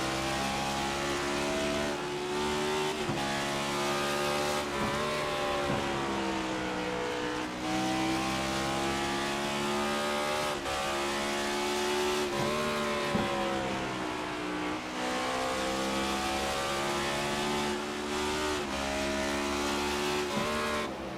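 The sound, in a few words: race car number 49 lapping, heard on board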